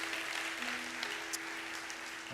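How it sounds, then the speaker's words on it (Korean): Church congregation at a Korean Sunday worship service in Seattle claps to welcome two missionaries. The applause is steady and moderately loud, with a faint electrical hum beneath it. "우리 한번 박수로 환영해 주시고"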